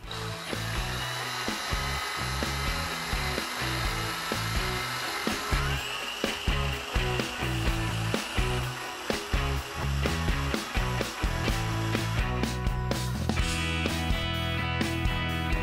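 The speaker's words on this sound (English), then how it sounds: "now I'll use the felt wheel with the polishing paste and I polish this once more" Motor-driven felt polishing wheel loaded with polishing paste buffing a wooden speargun line reel, giving a loud, continuous whir with rhythmic knocking and rubbing pulses as the part is pressed against the wheel.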